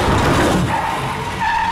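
A car skids hard on the road just before it strikes a man in a telenovela scene, a loud continuous tire screech with engine roar that fades into a thinner squeal.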